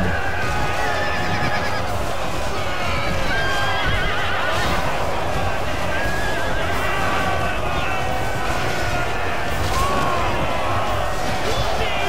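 Horses neighing and whinnying amid clip-clopping hooves in a medieval battle in the strategy game Medieval II: Total War, repeated calls over busy battle noise with someone talking.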